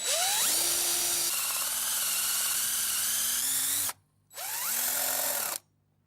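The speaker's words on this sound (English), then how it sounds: "So as soon as I start drilling and I come up to my tape," A power drill fitted with a spade bit bores into wood, spinning up with a rising whine, running steadily for several seconds, then stopping before a second shorter burst, close and loud.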